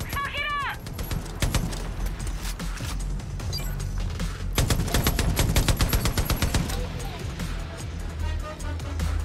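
Rapid automatic gunfire in Far Cry New Dawn, a gun fired in long bursts until it overheats, with crackling impacts and a voice talking over the shooting.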